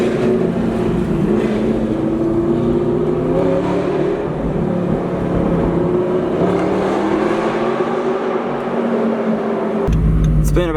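A straight-piped manual Audi R8 drones steadily and loud on a mountain road, its engine note rising and falling through gear changes in continuous cruising, with a brief shift in tone near the end.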